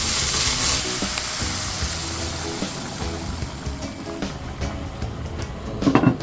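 Boiling water poured over pan-fried golden threadfin bream with a slice of ginger, bursting into a loud, steady sizzle and bubbling that swells again near the end.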